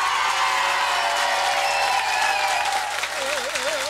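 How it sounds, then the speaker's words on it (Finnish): A large audience gives loud, sustained applause mixed with crowd noise, continuous and full throughout, with a faint tonal warble entering near the end. "Raikuvat aplodit lähtee. Ja ne kestää."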